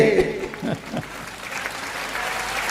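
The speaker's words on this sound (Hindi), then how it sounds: "लेकिन ताली आपने बराबर बजाई" Audience at a Hindi poetry gathering (kavi sammelan) claps in a burst that starts strongly, then settles into steadier, softer applause with some crowd murmur, moderately close.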